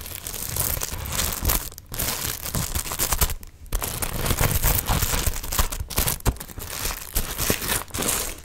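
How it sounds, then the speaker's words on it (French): Continuous papery crinkling and crackling from a paper bag being handled up close, with soft peeling and tearing noises and brief pauses. "Il se décolle un petit peu le papier"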